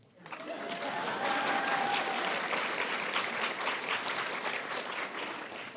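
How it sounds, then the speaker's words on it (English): A crowd bursts into steady, sustained applause at a nursing pinning ceremony, many hands clapping at once, loud and even throughout before tapering slightly at the end. "That's when you applaud."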